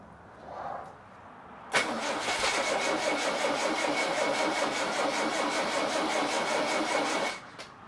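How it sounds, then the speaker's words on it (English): A Rover P6 engine cranks steadily for several seconds without catching, a close, loud rhythmic starter churn that begins abruptly and cuts off, with a faint sound just before it. "now the engine doesn't even start"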